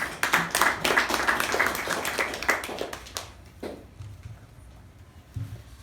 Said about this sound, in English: both speaker and the evaluator do require a wonderful round of applause